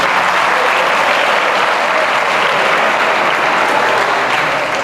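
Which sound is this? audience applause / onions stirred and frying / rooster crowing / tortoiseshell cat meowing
audience applause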